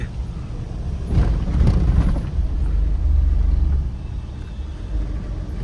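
A vehicle approaches on a mountain road in Manali, its engine rumble swelling from a low background to a loud, close pass and then holding steady before easing off slightly.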